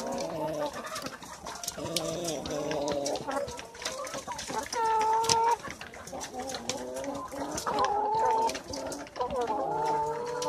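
Laying hens cluck and warble in a coop at afternoon feeding time, a steady chorus of overlapping calls that runs throughout at moderate loudness.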